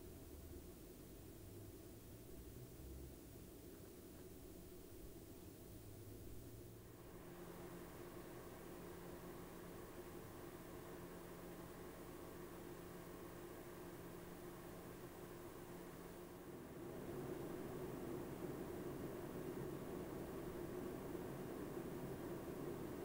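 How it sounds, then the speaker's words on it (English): Four 120mm case fans run at full speed above 2000 RPM in a SilentiumPC Signum SG1V PC chassis, a steady broadband whooshing hum that grows louder and airier as the speed steps up. "at their full speed they do get a bit loud as there is 4 of them after all, plus speeds above 2000 RPM will do that with a 120mm fan"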